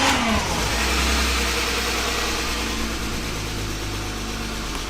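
An abandoned BMW E36 engine, slightly tappy, runs steadily at a close, loud idle after a brief rise at the start, with a low droning hum and no talking.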